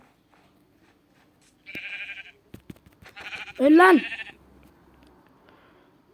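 Sheep in Minecraft give two short, nasal bleats, the second louder and wavering, while someone speaks briefly between them over faint game background.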